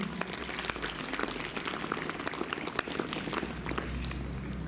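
An audience at a school gathering applauding, a dense, steady patter of many hands clapping continuously at moderate distance, filling the whole stretch with a rain-like texture.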